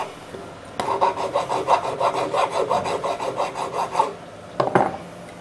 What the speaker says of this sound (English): Then you should take a file, knock the burrs down.